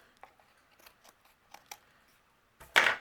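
Scissors trim overhanging cardstock from a die-cut card project in a quiet room, giving several faint close snips followed by one louder, longer cut at the end.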